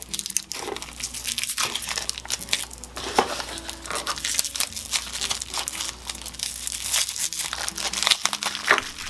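Plastic wrapping crinkles and tears as it is pulled off a wooden puzzle, a close, busy stream of crackling and crunching that runs steadily for about nine seconds with no talking.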